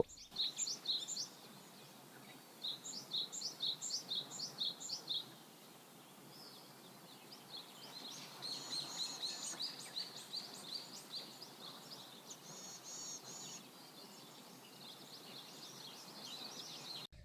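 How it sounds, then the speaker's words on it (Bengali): Migratory birds chirp at dawn in the jungle and coconut grove of Char Kukri Mukri. Quick, high twittering bursts come and go, faint and fairly distant, over a soft hiss of background ambience with no talking. "চারপাশে পাখির কিচিরমিচির"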